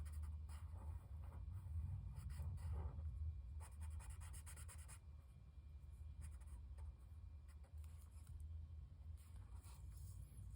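Quiet, continuous scratchy rubbing of pencil shading across paper, with bursts of faster strokes over a low background hum.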